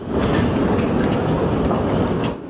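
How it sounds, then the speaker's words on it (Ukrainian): Metro train running through a subway tunnel, a loud steady rumble with rhythmic clickety-clack of wheels on rails throughout, heard up close from inside or beside the car. "А це вже метро."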